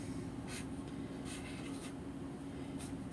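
A few short soft scratches as numbers are written on paper, faint brief strokes spaced apart over a steady low hum.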